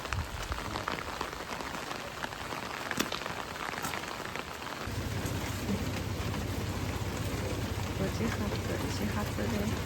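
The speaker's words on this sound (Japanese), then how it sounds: "ザーザーの雨です。" Heavy rain pours down on Yakushima Island, a dense hissing downpour that grows louder and deeper partway through as it drums on a nearby surface, with a voice talking over it.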